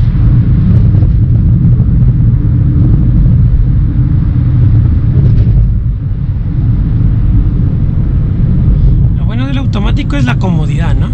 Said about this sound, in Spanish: Miren las revoluciones. A 6000 va haciendo los cambios automáticos.